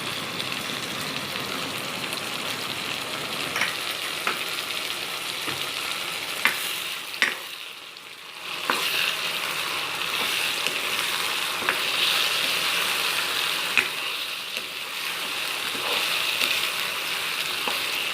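Chicken sizzles loudly and continuously in a pan as ginger garlic paste is added, while a utensil stirs and scrapes, with occasional clacks and one brief lull midway.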